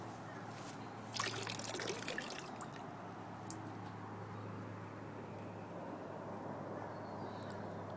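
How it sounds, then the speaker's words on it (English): Water from a gold pan of creek dirt is tipped out, a soft trickling and pouring in the foreground over a low steady hum, with brief spatters early on. "Just tip this water out."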